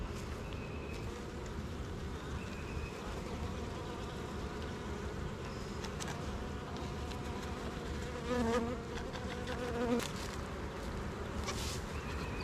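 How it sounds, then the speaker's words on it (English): Dense, steady buzzing of many honey bees swarming close by during a hive inspection, a continuous drone with individual insects whirring past. "There's still so many bees that I've not gotten off."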